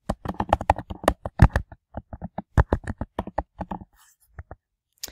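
Rapid, crisp clicking of keys on a computer keyboard as search keywords are typed, an uneven run of close taps that pauses briefly, continues, then trails off into silence with a final click.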